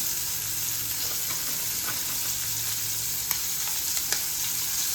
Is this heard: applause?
no